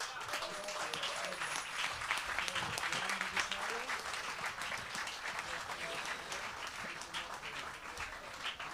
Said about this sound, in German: haben auch noch einen riesen Applaus verdient.